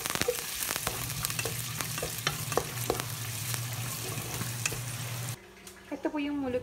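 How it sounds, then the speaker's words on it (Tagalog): Onion and garlic sauté steadily in a hot pan with a continuous sizzle and occasional stirring scrapes, then the sizzle drops away near the end as a voice begins speaking. "Ayan, nangangaloy na po ang ating sibuyas at bawang."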